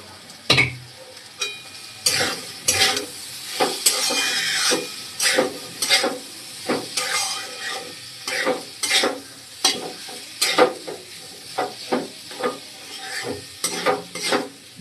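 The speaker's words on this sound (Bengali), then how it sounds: "এবার এই আলুটা কড়াই দিয়ে দিব, দিয়ে একটু নেড়ে নেব" Boiled potatoes are stirred and fried in a wok, with a constant sizzle under rhythmic, repeated scraping strokes of a spatula, close and fairly loud with no talk.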